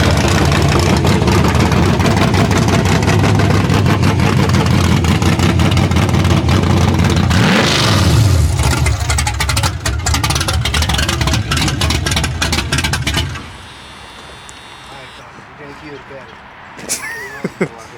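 Chevrolet Cutlass V8 with a Flowmaster exhaust running loud and close, a deep throbbing idle with a rev midway, before the engine cuts off and leaves quieter background; people talk over it.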